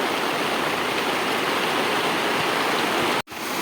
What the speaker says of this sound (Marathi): तर गाईज फुल पाऊस पडतोय.